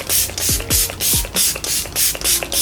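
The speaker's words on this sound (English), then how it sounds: "I'm gonna use this Stay All Night Microfine Mist Setting Spray" An e.l.f. Stay All Night Microfine Mist Setting Spray bottle is pumped repeatedly, about nine quick hissing sprays in steady rhythm, each with a faint click of the trigger.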